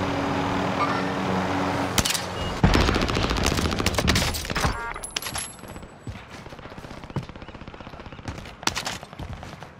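Bursts of rapid automatic gunfire and single shots crack out during a battle royale video game match, loud at first and then thinning into scattered, more distant shots.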